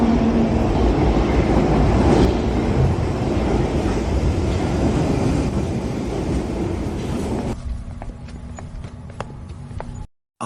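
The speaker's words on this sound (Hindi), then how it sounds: "तो ये लो आ गई उनकी मेट्रो।" A metro train pulls into the platform in a Hindi cartoon horror story: a loud, continuous rumble with a rhythmic clattering, which thins out near the end as the train settles.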